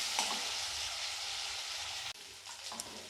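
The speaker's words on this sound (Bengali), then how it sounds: "পেঁয়াজটি ভাজি হয়ে গেছে" Onion frying in oil in a pan, a dense, close, steady sizzle with a couple of light stirring scrapes and a brief dip partway through.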